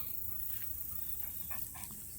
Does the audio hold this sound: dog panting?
yes